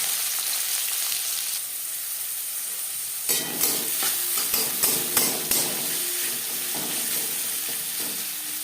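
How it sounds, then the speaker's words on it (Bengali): Chopped onion and slit green chilies fry in three spoons of refined oil for a Bengali flat-bean dish, a dense continuous sizzle joined midway by a run of sharp metal spatula knocks and scrapes, with no voices. "3 চামচ রিফাইন্ড অয়েল গরম করে নেওয়ার পর দিয়ে দেবো পেঁয়াজ কুচি, চেরা কাঁচা লঙ্কা।"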